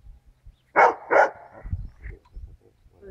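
A dog lets out two sharp, close barks in quick succession, followed by quieter low thuds and rustling.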